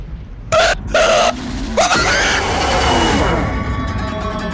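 A player shrieks in fright while playing the horror video game Devour, giving two short loud high screams, then a brief yelp, over a noisy game soundscape.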